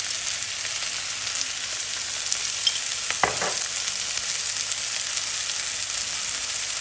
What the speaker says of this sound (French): Faire revenir mes oignons.